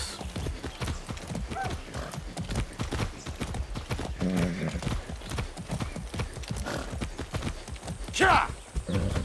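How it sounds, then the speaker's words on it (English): Steady galloping hoofbeats from a horse in the video game Far Cry 6, close and driving, with a sharp neigh near the end. "That's a good horse."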